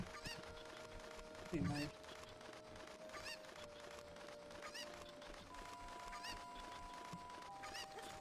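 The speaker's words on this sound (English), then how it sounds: "The chicken sound is very annoying." A chicken clucks in Ocarina of Time, one short loud squawk near the start over quiet game music and soft speech.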